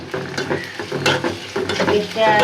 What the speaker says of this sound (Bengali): রসুনটা সুন্দর করে আদা আদা ভাজা ভাজা করে লই